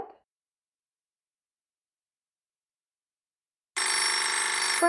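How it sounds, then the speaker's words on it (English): A telephone bell rings in a radio play, a loud continuous electric jangle bursting in after a stretch of silence and carrying on alone to the end. "The telephone's ringing."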